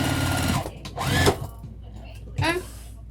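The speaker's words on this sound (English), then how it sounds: "And then I'm gonna baste the edge of this one." A sewing machine bastes the edge of a vinyl tote bag in short bursts of mechanical stitching clatter with pauses between, close and moderately loud, with a voice speaking briefly near the end.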